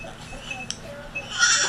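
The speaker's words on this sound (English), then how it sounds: "Hattie, come listen to the Billy goat" A billy goat lets out a short bleat at the end after a few faint clicks and background noise, fairly quiet overall.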